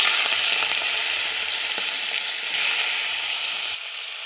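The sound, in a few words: prawns frying in hot oil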